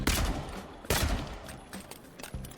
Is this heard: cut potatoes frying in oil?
no